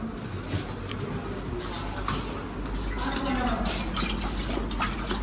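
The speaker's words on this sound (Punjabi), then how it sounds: "ਥੋੜਾ ਸਾ ਪਾਣੀ ਹੋਰ ਡਾਲਣਾ ਇਸ ਪਰ" Water poured into a cooking pot of chickpeas (chhole) in a room, a steady splashing, trickling flow running throughout at moderate level.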